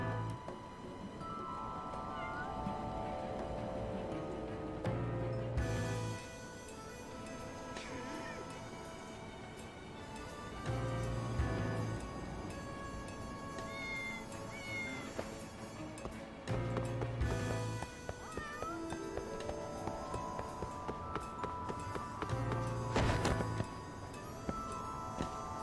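Cats meow in the video game Lost Judgment, with short cries scattered over continuous game music and sound effects across the stretch.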